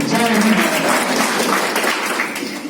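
An audience at a patriotic discussion event in Patna claps loudly and continuously for a country's army, with voices faintly mixed in as the applause tapers slightly at the end.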